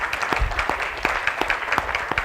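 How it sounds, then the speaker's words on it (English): A room of participants at a citizens' jury consensus workshop breaks into steady applause, a dense patter of many hands with sharper individual claps poking through, moderately loud and continuous throughout. "So give yourselves a round of applause."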